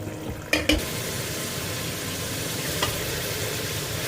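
Masala spices sizzling and frying in a pan as they are stirred, a steady close hiss with a couple of sharp clatters near the start.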